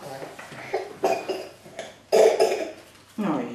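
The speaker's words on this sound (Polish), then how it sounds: "Ojej, jaki niedobry kaszel." A child coughs several times in short, irregular bursts, close and fairly loud, with brief pauses between them.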